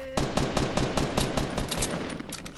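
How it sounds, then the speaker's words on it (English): Rapid gunfire in the Fortnite video game, with dense bursts of automatic shots overlapping and continuing steadily throughout, loud and close. "They're shooting at me"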